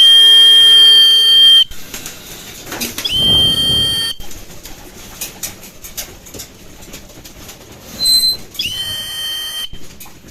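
Racing pigeons called down after a first training toss, with sharp whistle blasts and bird calls, loud and close, broken by pauses and outdoor noise.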